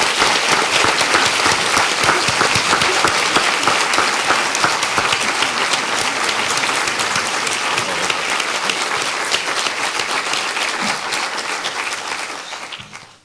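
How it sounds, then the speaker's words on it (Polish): A lecture audience in Poznan applauds Professor Hilgers, producing thick, loud, continuous clapping that carries evenly for several seconds before tapering off at the very end. "Myślę, że także podziękujemy oklaskami."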